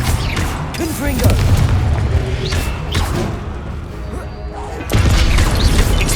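Confringo explosion spell in the video game Hogwarts Legacy, loud booming blasts and crashing impacts layered with dense combat effects, under a shouted voice casting spells.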